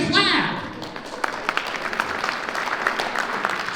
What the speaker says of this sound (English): This is where you can clap like a seal. Don't raise your hand, clap.